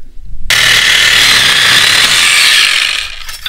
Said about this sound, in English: So we're going to get the old cutting tools out and go cut it